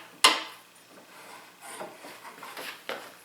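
A pencil marks a miter cut line on a wooden board: one sharp tap, then faint, scratchy strokes rubbing across the wood grain, close and quiet.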